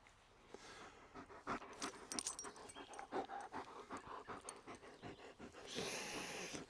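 A young black German Shepherd, not yet a year old, pants rapidly and rhythmically close by outdoors in the sun, a steady run of quick breaths with nobody speaking.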